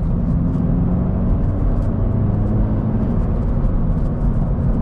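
A truck fitted with an aftermarket exhaust cruises at normal driving speed, a steady, loud, low droning rumble that holds even throughout with no clear revving, heard from close by.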